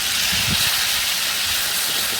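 Spices dropped into hot oil in a wok, a loud, dense hiss and sizzle that stays steady throughout, close to the pan with no talking.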